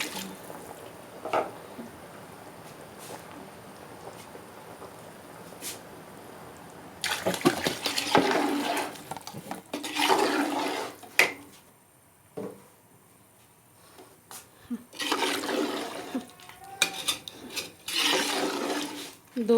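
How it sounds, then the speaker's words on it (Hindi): Water is poured into a pot of chicken aloo gosht in bursts of loud gushing and splashing that stop and start, after a quiet stretch at the beginning. "इसमें मैं अब पानी शामिल करूँगी"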